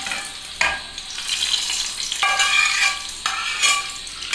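Oil poured into a hot pan while cooking for egg momo, a loud bright sizzle rising in several bursts with stirring, close up.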